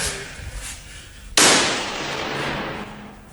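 A single sharp gunshot cracks during a shooting drill, loud and close, with a long rumbling echo trailing off after it and a softer background noise beforehand.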